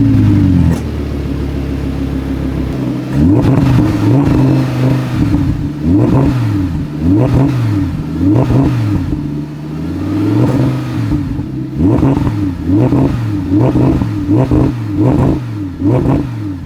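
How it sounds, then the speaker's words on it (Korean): An Audi R8 with a V10 engine idling while stationary, its exhaust giving a loud, deep booming burble that pulses in repeated rhythmic throbs over a steady low rumble, with no talk. "지금 차가 서 있는 상태인데도 배기음이 상당히 쿵쿵쿵하고 울리는 게 느껴지실 겁니다."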